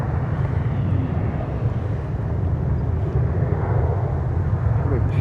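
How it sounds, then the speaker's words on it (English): A 23-year-old United Airbus A320 on approach to land at Cleveland Hopkins International Airport gives off a steady, loud, low jet rumble and broadband roar that holds evenly from start to finish. "Coming in from Washington, we have United 1709, 23-year-old Airbus A320 232."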